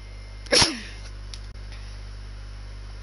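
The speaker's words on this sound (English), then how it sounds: "Wait, I need to sneeze." A single person's sneeze bursts out sharply near the start, close and loud, then fades, leaving a low steady hum with only a faint tick afterward.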